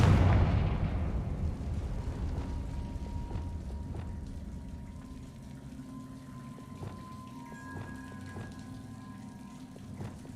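Spell explosion from the Confringo curse in the video game Hogwarts Legacy: a loud opening blast that decays into a long rumbling, crackling tail, with faint tonal game sounds and sharp ticks over the fading roar.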